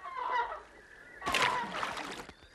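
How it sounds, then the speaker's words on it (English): A bird calls twice, honking and squawking at close range: a short call first, then a louder, harsher burst with a few trailing notes. No one speaks. "That's a bird."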